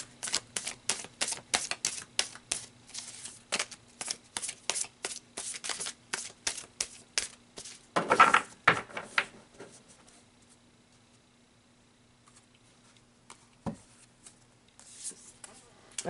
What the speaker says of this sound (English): let's pull some tarot cards and see what spirit would like to add